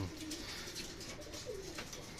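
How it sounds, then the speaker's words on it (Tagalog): Racing pigeons arriving at a loft coo softly in a few low, rounded calls over steady outdoor background noise, with faint chirps and movement nearby. "First bird natin, apat na ibon."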